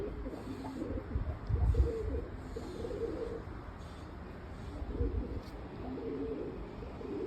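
Pigeons coo repeatedly inside a coop, low rounded calls rising and falling in several bursts over a steady background rustle, fairly close and with no talking.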